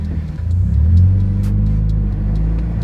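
Aftermarket exhaust on a 2022 Subaru BRZ revving hard while stuck in snow, a loud, close, sustained low engine roar rising and holding steady, no talking.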